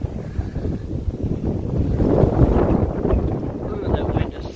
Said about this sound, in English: Ooh, that wind is so strong.